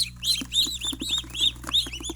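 A group of ducklings peeping nearby in rapid, high chirps as they are released into a pen, overlapping and continuous, with a steady low hum in the background.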